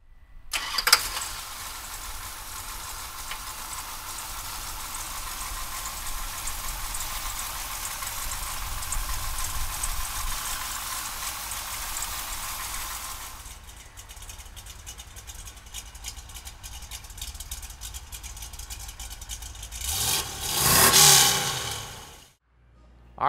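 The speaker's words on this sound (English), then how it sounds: "fire up the Hemi" A 1968 Dodge Charger with a Hemi V8 cranks and fires, then settles into a lumpy idle that eases down before a sharp rising rev near the end and a quick cutoff.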